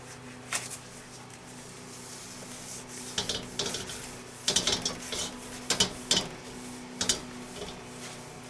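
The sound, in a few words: oil being rubbed over a wok with a wooden handle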